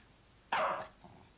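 A dog outside gives one short, loud bark, followed a moment later by a fainter trailing sound, set against quiet room background.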